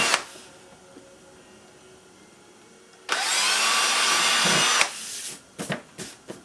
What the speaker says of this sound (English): I'm going to finish putting them holes in there